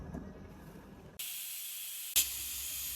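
A pressure cooker on the stove, lid locked on, cooking paneer pulao, lets out a steady loud hiss of escaping steam, joined by a sharper burst near the end, with no voices over it.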